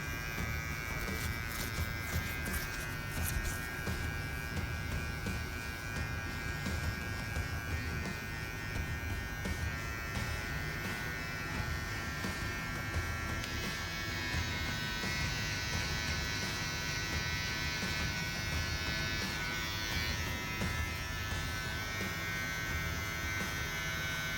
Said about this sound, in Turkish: O yüzden ben tıraş makinesini tercih ediyorum.